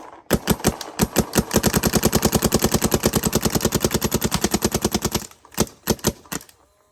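Planet Eclipse 170R paintball marker fired outdoors in a long rapid string of sharp pops, loud and close, with a brief pause and a few last shots at the end.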